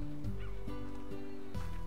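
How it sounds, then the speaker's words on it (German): Chickens in the game Slime Rancher cluck in short, close, honking bursts, several calls over under two seconds over a steady background drone. "Sieben Hühner."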